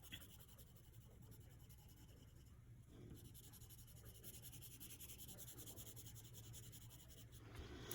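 A pencil presses hard against drawing paper, making a faint, continuous, close-up scratch and rub of steady strokes with no talking.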